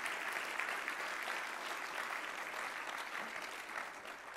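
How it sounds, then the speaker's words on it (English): Audience applause at the Vanderbilt Athletics Hall of Fame ceremony, a sustained, even patter of many hands, fairly faint and distant, easing slightly toward the end. "please give them a round of applause"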